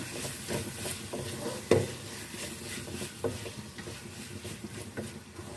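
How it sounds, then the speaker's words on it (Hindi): Tomato and green chilli being stirred into mutton keema in a pan: quiet, close scraping and stirring strokes with one sharper knock of the utensil, over a soft low sizzle, with no voices. "टमाटर, सब्ज़ मिर्च को हम मिक्स कर लेते हैं कीमे में"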